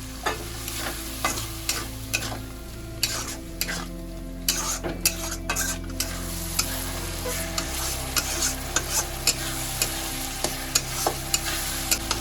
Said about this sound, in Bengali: অল্প একটু জল দিয়ে এবার মশলাটাকে আমি ভালো করে কষিয়ে নেব